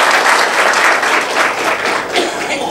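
Audience applause at a lecture series felicitation ceremony, a loud, sustained wash of clapping from a full hall that holds steady without a break.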